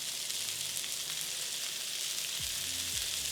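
Chopped veggies and apple sauté in leftover sausage fat in a pan, giving a steady, close sizzle throughout, with a few low scraping stir sounds near the end.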